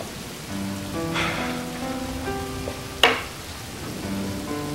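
Steady rain falls at night, a continuous hiss beneath sustained musical tones, with one sharp, loud burst partway through.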